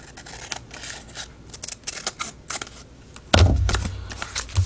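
Scissors cut down a washi tape collage envelope in a quick series of close snips and crisp paper cuts, followed by a louder rustle and thump of paper being handled.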